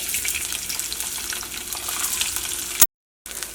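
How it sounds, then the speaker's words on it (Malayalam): Ginger and garlic frying in coconut oil for a papaya curry give a steady, close sizzle with light crackle throughout, broken by a short silent gap near the end. "ഇതിലേക്ക് നമ്മൾ ഇഞ്ചിയും വെളുത്തുള്ളിയും നമ്മൾ കട്ട് ചെയ്ത് വെച്ചിട്ടില്ലേ അത് ചേർക്കാം"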